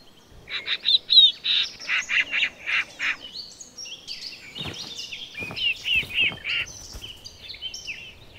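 Cavity-nesting songbirds, a collared flycatcher and a blue tit, sing in bright chirping phrases, rapid repeated notes in bursts with short pauses, close and clear over a quiet background.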